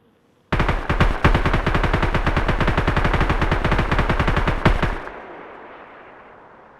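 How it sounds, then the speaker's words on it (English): A PKM machine gun in a video game fires one long, rapid, steady burst for about four and a half seconds, loud and close, then cuts off into a fading echo tail. "That's definitely Tom shooting"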